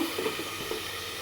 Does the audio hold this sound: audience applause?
no